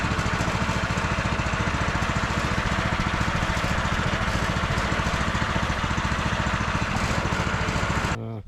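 A T-18 tractor engine drives through mud in second gear at medium throttle, giving a loud, steady, rhythmic diesel chugging throughout before it cuts off abruptly near the end.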